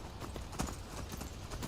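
Horse hooves clip-clopping while riding in the video game Skyrim, a rapid, fairly loud run of hoofbeats over dense background game noise.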